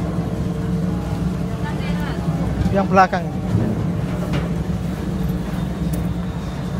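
A motor-powered boat on a water park ride idles and hums steadily at close range while people chat over it, with a brief sharper surge partway through.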